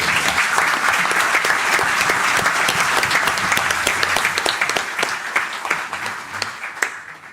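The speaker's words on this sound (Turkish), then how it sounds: "alkışı sizlerden rica ediyorum." Sustained applause from members at a Galatasaray club assembly meeting, thick continuous clapping with sharper individual claps near the end as it fades.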